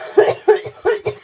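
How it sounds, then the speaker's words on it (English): Four short, sharp coughs in quick succession, close and loud, each a brief harsh burst with pauses between. "Oh, I'm so sick of coughing."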